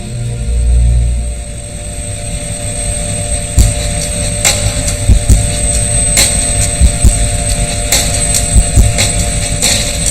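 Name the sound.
Russian Mi-17 helicopter in flight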